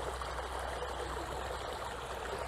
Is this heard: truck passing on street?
no